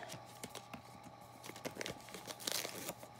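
Adhesive pad backing tabs are peeled away close up, giving faint crinkling and light tearing crackles in an irregular patter with no talk over them.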